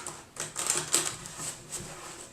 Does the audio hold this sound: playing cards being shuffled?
yes